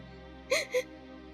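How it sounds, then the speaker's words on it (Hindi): A woman cries softly in a silent house, two short breathy sobs or gasps close by and faint, with quiet stillness before and after. "उसी सन्नाटे में एक हल्की सी रोने की आवाज आ रही थी"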